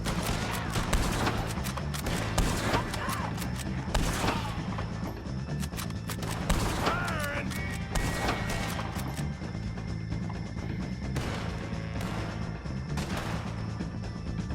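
Gunfight in Red Dead Redemption 2 against O'Driscoll gang members, with repeated sharp gunshots and cracks scattered through a continuous backdrop of game music and action noise, the shots landing irregularly from near and mid distance.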